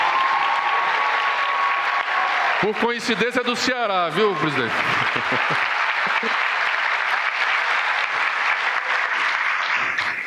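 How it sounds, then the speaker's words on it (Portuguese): Sustained applause fills a Brazilian presidential ceremony where the Escola Tempo Integral program is signed, steady and loud for the full length, with someone speaking briefly over it midway. "Uma salva de palmas para ele."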